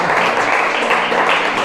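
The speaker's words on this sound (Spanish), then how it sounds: "le damos un aplauso al Rey de Reyes" Church congregation applauding at the close of a Sunday service, a dense steady wash of many hands clapping together, loud and sustained for the whole moment with no gaps.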